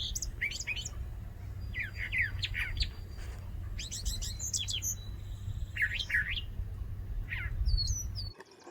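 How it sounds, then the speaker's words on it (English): Birdsong on a morning bird walk in spring: several birds chirp and trill in short bursts, some close and some farther off, over a steady low outdoor rumble, with no talking. "We still have a decent amount of bird song going on."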